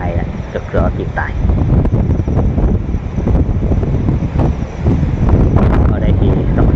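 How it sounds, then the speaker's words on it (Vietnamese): Strong wind gusting through a forest buffets the microphone with loud, continuous roaring and rumbling, while crackles and rustles sound throughout. "Ở đây thì rất là gió"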